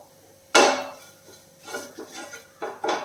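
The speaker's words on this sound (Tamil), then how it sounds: "இது எல்லாத்தையுமே நல்லா கிளறிப்போம்" A metal utensil clanks and scrapes against a pan in several separate bursts while stirring spices for egg curry, close and clear, with no talking.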